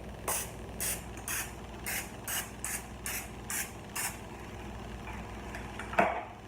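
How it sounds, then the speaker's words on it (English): Short hissing spray bursts, about nine, come in a steady, evenly spaced rhythm, with a brief clunk near the end. "So now we need to spray these with a non-stick cooking spray."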